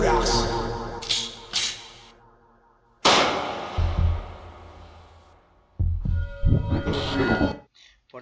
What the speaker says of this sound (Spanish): hay un disparo